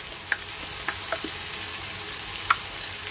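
Sour yogurt going into spice masala frying in a pan for a yogurt-based catla fish curry, giving a steady close sizzle with a few sharp pops and clicks and no talk.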